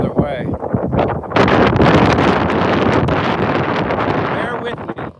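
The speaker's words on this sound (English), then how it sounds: "there's too much wind blowing" Strong wind buffets a microphone outdoors during a walk in the Philippines, a loud, steady broadband roar with rumbling gusts that fills the whole stretch and strengthens after the first second.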